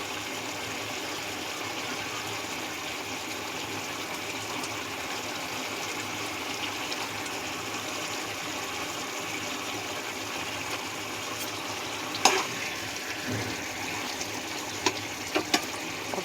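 A paneer curry with capsicum and potato bubbles and simmers in a pan, making a continuous soft burbling hiss with a few sharper pops near the end.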